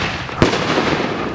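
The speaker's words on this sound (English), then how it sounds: "I'm also gonna light off another firework" A firework lit off outdoors bursts with a sharp, loud bang, followed by a sustained crackling hiss that fades over about a second.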